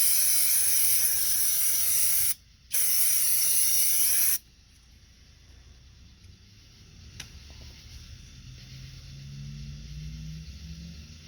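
Autozone brake cleaner sprays onto an oil pan in two loud, close, hissing bursts with a brief gap between them, followed by quiet dripping and faint background noise.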